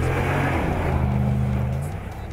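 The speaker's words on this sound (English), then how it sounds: "for a factory exhaust system, it sounds bloody fantastic." A Dodge Ram Laramie pickup's Hemi V8 revs through its factory exhaust, a deep, steady rumble that holds loud and close before easing slightly toward the end, with no voices.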